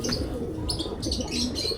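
Male silver pigeons coo softly amid a flock, with rolling low calls, faint chirps and wing flutters filling the scene at close range.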